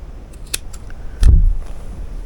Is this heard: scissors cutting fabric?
yes